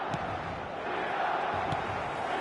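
A stadium crowd in a football video game gives off a steady roar and murmur, with a few sharp thuds rising out of the noise.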